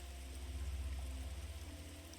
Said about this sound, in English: You can hear the rumble of thunder and hear the large raindrops hitting the ground around you